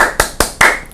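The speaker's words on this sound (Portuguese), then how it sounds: "bater palmas" Three sharp hand claps, evenly spaced about a fifth of a second apart, ring out close and alone as a simple body-percussion rhythm for making music.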